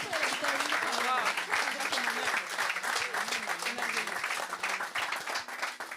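Congregation applauding at a church healing service, steady dense clapping from a crowd held at full level throughout, with voices mixed in over it.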